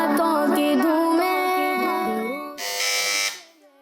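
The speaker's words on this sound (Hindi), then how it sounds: "इस बार सबसे पहले बज़र बजाई है टीम ए ने" A quiz-show buzzer is pressed during a children's Islamic quiz program, a harsh, loud electronic burst lasting under a second that cuts in after a stretch of tonal, melodic sound.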